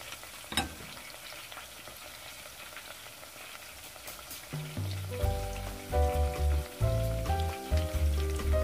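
Tofu frying in a pan for tinoyoang tokwa and fried tokwa, a steady crackling sizzle throughout, joined midway by louder clattering and stirring sounds close by; no one talks.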